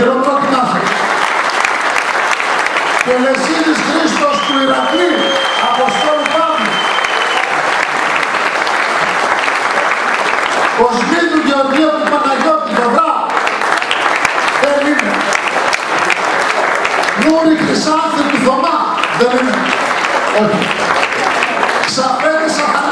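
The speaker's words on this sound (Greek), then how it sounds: "Όχι, το χειροκρότημά σας." An audience at a civic ceremony in Veria, Greece, applauds steadily and loudly for the whole stretch, with a voice speaking over the clapping at times.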